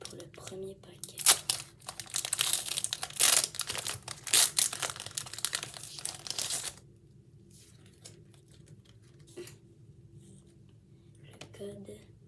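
Pokémon card booster pack from a Cynthia's Garchomp ex collection box being torn open, a close, busy run of crinkling foil and ripping for several seconds, then quieter handling of the cards with faint rustles.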